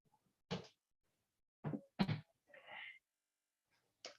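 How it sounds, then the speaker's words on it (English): A few short, sharp bursts in quiet surroundings, one a forceful sneeze-like blast, followed by a brief breathy sound. "Sorry, I'm going to sneeze."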